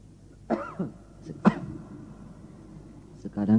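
A few separate coughs, close and fairly sharp, with short pauses between them; a voice starts up at the very end.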